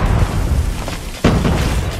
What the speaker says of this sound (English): Throwing smoke grenade